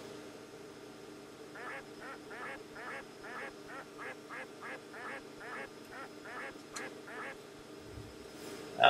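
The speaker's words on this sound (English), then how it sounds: "Ducks, okay." Cartoon ducks from the After Dark screensaver on a classic Macintosh quack in a steady run of about fifteen short, evenly spaced calls over a faint electronic hum, ending in a brief louder thump.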